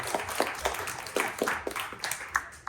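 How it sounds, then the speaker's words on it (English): A small workshop audience clapping, scattered individual claps spaced irregularly at moderate distance rather than a full burst of applause. "should we clap"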